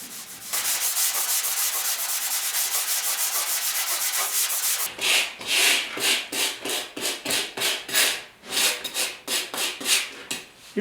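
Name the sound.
sanding feather fill primer on a 1972 Ford truck body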